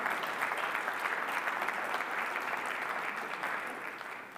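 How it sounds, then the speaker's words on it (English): Steady, full audience applause at a technology awards ceremony for award finalists, a dense crowd of clapping that holds evenly and begins to taper at the end. "A big round of applause for the 2021 Non-Headquartered finalists."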